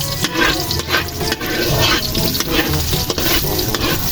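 Beef skin frying in hot oil and being stirred, a loud steady sizzle broken by repeated scraping stir strokes across the pan for the whole stretch, with no talking.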